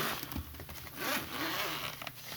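A zipper on a quality carrying bag for an action camera kit is pulled open in one steady, close rasping run lasting a couple of seconds, with no talking.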